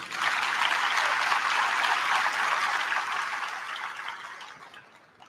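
Audience applause at a National Honor Society induction ceremony, a broad, steady clapping wash from a crowd that holds for several seconds and then tapers off toward the end.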